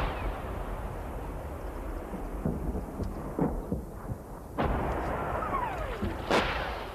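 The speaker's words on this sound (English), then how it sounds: "Then, suddenly, the Serbian artillery opened up." Serbian artillery firing in Bosnia in 1992, heard as several deep booms and rumbles rolling over a constant wind-like outdoor roar, with sharper cracks toward the end and no talking.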